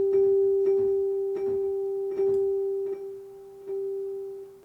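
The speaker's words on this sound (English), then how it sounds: "Adds a reverb delay." A sustained electronic tone is struck by repeated percussive hits, each trailing off in echoing repeats from an echo delay plugin that decay slowly, evenly spaced and fairly loud.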